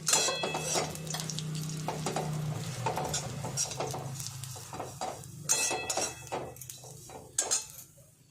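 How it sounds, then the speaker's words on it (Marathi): Grated coconut roasts in a spoonful of oil in a pan over a village wood-fired stove, with repeated close spoon scrapes and clinks against the pan over a soft frying sizzle. "खोबरं भाजण्यासाठी"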